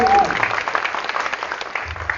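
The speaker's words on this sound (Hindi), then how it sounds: "एक बार जोरदार ताली हो जाए दोस्तों इनके लिए" Brief burst of audience clapping at a company victory celebration, loud at first and then settling into a denser patter under the room's ambient noise.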